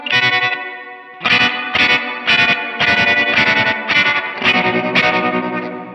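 Electric guitar chords pulse in rapid, rhythmic chops from a tremolo effect on a Phreak, bathed in reverb, after a short opening chord and brief pause.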